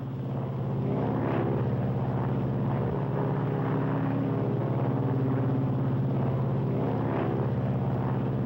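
An aircraft on approach to landing, lowering its flaps and landing gear, gives a steady, fairly loud engine drone that continues throughout with little change.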